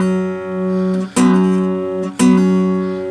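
An acoustic guitar picks a fingerstyle pattern with ringing open strings and two sharp plucked attacks, each followed by a hammered note that sustains and fades, played up close without talking.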